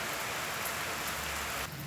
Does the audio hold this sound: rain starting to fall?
yes